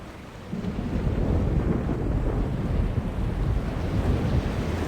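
A thunderstorm in the video game The Longest Journey: a deep, continuous rumble of thunder and rushing wind-like roar that swells in after a quiet start and holds loud and steady, with no voices.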